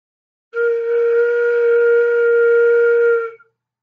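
A single steady flute note, blown across the tone hole, clear and breathy, held for about three seconds before cutting off, with no voices.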